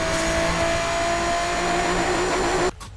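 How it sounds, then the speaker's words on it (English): Engine of the 4GT car in the Asphalt 8 racing video game, a loud sustained revving roar that holds steady for nearly three seconds before cutting off abruptly. "there's more engine sounds that I want to show you"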